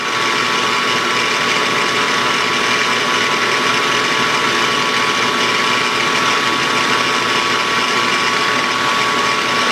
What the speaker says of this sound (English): Now we're going to take and do our center drill.